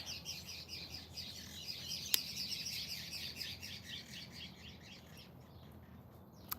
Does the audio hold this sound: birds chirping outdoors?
yes